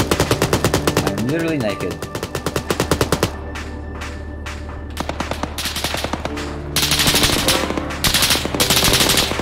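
Bursts of automatic gunfire in ArmA 3, loud rhythmic volleys of rapid shots that stop for a stretch and then resume, with someone speaking briefly over the game audio.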